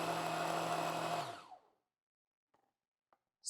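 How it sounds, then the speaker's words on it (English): A food processor runs steadily for about a second and a half while blending a meat filling, then winds down and stops, followed by a few faint small clicks and a brief sound at the end. "Use the on and off mode to blend this for just 30 seconds."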